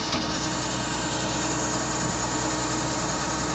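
A combine harvester's engine runs steadily and loudly up close, a dense continuous mechanical roar with no breaks and no voices.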